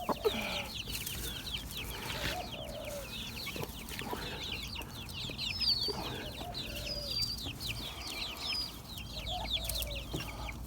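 Hens in a garden coop cluck and chirp in a busy, continuous chatter, with occasional louder calls standing out over the low flock murmur.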